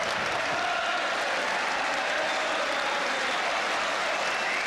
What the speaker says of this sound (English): More applause for Charlton.